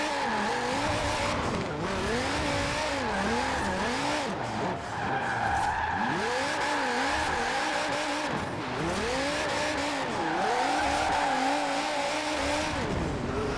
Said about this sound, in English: I love the sound of the V10 you get from this Viper.